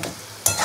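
Tender leafy greens stir-fried in a wok, heard as a short burst of scraping and sizzling that jumps louder halfway through as the greens are tossed.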